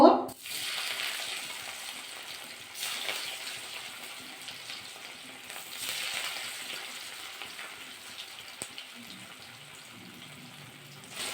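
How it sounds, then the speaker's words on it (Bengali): Steady sizzling of cauliflower florets frying in hot oil, close and continuous, with occasional soft stirring clinks and no talking. "তেলটা ভালো করে গরম করে নিয়েছি ফুলকপি ডালের ঢোকাগুলো কিন্তু আমরা ভাজা করে নেব"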